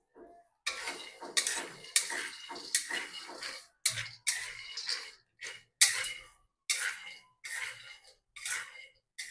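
A spatula repeatedly scrapes and stirs peanuts dry-roasting without oil in a hot metal wok over low heat, in short rattling bursts separated by brief pauses.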